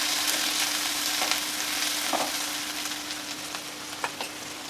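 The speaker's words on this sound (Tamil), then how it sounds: "பச்சை மிளகாய் 2 போட்டுக்குவோம். வெங்காயம் போட்டுக்குவோம். கொஞ்சம் வெங்காயம் வணங்கி வரட்டும்." Chopped onions and two green chillies frying in oil in a pan for banana stem kootu, a steady close hiss with scattered small pops and crackles, no talking.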